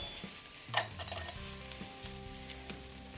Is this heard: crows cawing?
no